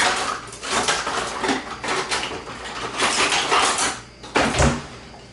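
A spatula clatters into a kitchen sink and a drawer is pulled open while another is grabbed, producing a run of clanks, rattles and a sharp knock near the end, close and fairly loud.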